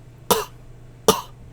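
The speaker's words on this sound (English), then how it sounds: "Keep it solid. Do not cough it out." Two short, sharp coughs about a second apart, close and clear, with near silence around them.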